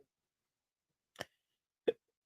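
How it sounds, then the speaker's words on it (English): Two sharp hiccups from one person, spaced about a second apart, close and clear against otherwise near silence. "I got the hiccups"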